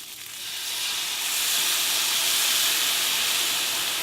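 Soy sauce poured into a hot pan with browned green beans, a loud, broad hissing sizzle that swells over the first second and then holds steady and bright to the end.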